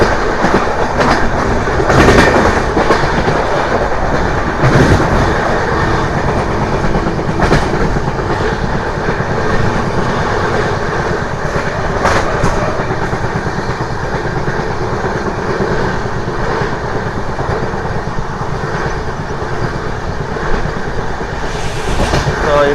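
Nanded to Tirupati special train on the new Nadikudi–Srikalahasti line, running steadily on rails with a continuous rumble and rhythmic clickety-clack heard from on board, loud and close throughout.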